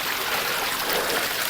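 Water trickles steadily from a pond filter sunk into a garden pond, with an air stone running nearby; a close, continuous splashing flow with no voices.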